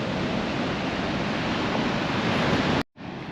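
Southern Ocean surf rolls onto a long beach in a steady, broad roar of breaking waves, loud and continuous, with a brief dropout near the end before the wash resumes.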